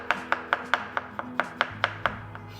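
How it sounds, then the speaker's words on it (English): Mushrooms being finely chopped with a knife on a board: about ten crisp, evenly spaced taps in a steady quick rhythm, close and clear, with no talking. "just chop them up even finer"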